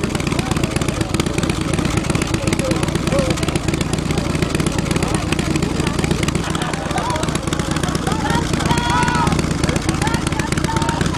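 A custom motorcycle built on a Yamaha runs loud and steady, its continuous engine rumble filling the whole stretch at a bike show, with people talking underneath.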